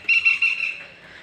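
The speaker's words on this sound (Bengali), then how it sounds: "পাখিরা কিচিরমিচির ডাকছে" Birds chirp at dusk in a steady, high, whistle-like call that carries for about a second and fades slightly, heard alone and moderately close.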